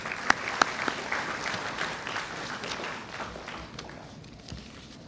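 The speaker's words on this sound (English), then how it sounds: "A huge applause for all business schools." Conference audience at an INBUSH ERA 2016 business school event breaks into applause, opening with a few sharp, close claps before a crowd of hands settles into steady clapping that gradually thins and fades.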